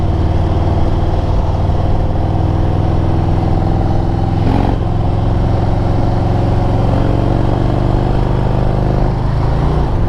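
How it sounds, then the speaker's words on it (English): Harley-Davidson touring motorcycle engine running in fifth gear with a suspected misaligned clutch, a loud steady low rumble with a short dip near the middle and a slight change in pitch toward the end, heard close with no talking. "So right now I'm in 5th gear. You hear that? Can you hear the rev?"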